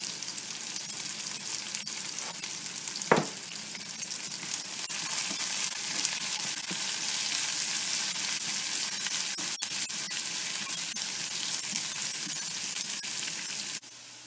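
An onion with a pinch of salt browns in a frying pan for a stew, giving a constant close sizzle and crackle with an occasional sharp tick of stirring and no voices.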